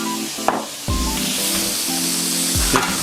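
Adana kebabs sizzle in olive oil in a cast iron pan at Cannonball Cottage, a continuous loud hiss punctuated by knocks and scrapes of utensils against the pan.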